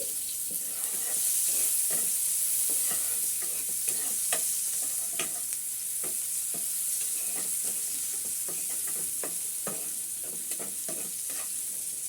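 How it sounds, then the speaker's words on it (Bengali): Chopped onion frying lightly in a pan, for a home-style katla fish and bean seed curry: a steady close sizzle with repeated scraping stir strokes, no voices. "কিছুটা পেঁয়াজ কুচি করে দিয়ে দিলাম পেঁয়াজটা হালকা একটু ভেজে নিচ্ছি"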